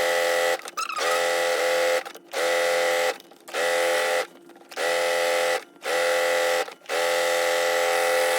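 A sewing machine stitching elastic close to the edge of fabric runs in repeated bursts of steady whirring, each about a second long, broken by brief pauses, close and loud, with no talking.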